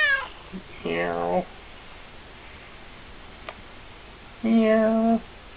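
A cat meows twice, clear and close, with a long quiet pause between the two drawn-out cries.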